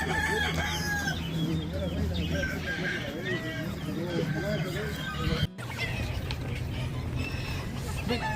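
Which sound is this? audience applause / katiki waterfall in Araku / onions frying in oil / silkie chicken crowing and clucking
silkie chicken crowing and clucking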